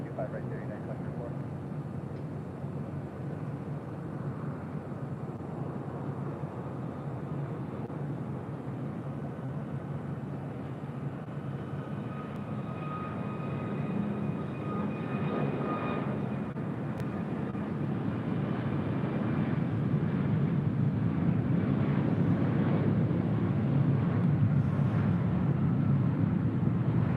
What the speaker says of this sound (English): the American 777-300ER coming up from London Heathrow up next for arrival on 25 left